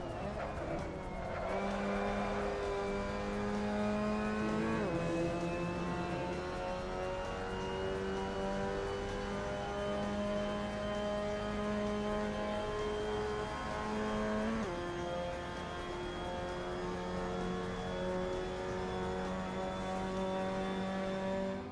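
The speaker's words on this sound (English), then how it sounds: "So that was a lap around Road America with the Mazda MX-5 Cup" In the Assetto Corsa racing game, a Mazda MX-5 Cup race car laps Road America, its engine droning steadily and climbing in pitch through each gear, with sharp drops at the upshifts and continuous play throughout.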